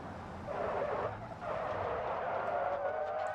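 Gravil D-Series RC car braking hard and skidding in a braking test, a short scraping tire skid with buzzing motor whine, faint and close, no voices.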